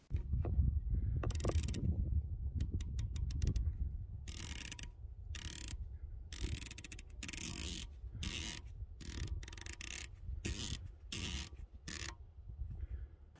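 Turret on a Blackhound Emerge 3-24x56 rifle scope being turned, producing sharp mechanical clicks in quick runs and spaced bursts, close and crisp, with a rubbing low rumble underneath and no talk.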